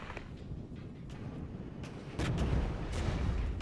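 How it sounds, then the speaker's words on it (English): Artillery fire in the wartime strategy game Regiments, a rumbling low barrage with several sharp distant blasts, growing heavier and louder partway through, no speech. "Drop some artillery on them."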